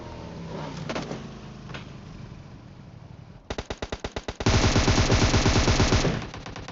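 Rapid bursts of automatic gunfire in PUBG Mobile, first scattered and distant, then loud sustained rattling fire close by, with game-like sharp cutoffs.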